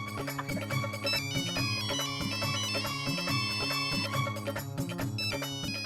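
A mobile phone rings steadily with a looping electronic melody, loud and close, repeating throughout with no talk over it.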